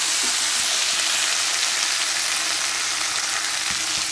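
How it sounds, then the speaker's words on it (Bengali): Ivy gourd (kundri) frying in hot oil with black cumin, a loud, dense, continuous sizzle and crackle close by, steady from start to finish with no voices. "কুঁদরি ভাজাটা বসিয়ে দিয়েছি।"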